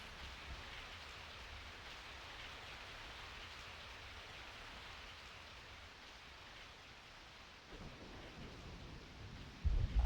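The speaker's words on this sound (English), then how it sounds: "I woke up to the sound of falling rain." Rain falling in Resident Evil 3, a steady, even hiss with low rumbling underneath and a few heavier thumps at the end, no voices.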